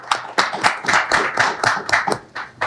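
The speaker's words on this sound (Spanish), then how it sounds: "para que pido un aplauso." Short burst of clapping for a federal deputy at a professional forum, only a few people applauding in distinct, uneven bursts close by, with no speech.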